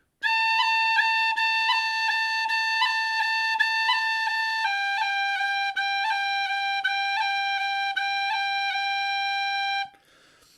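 Tin whistle cuts and taps played correctly as crisp rhythmic articulations within a steady, bright melodic line of held notes, close and clear with no voices, ending abruptly after about ten seconds.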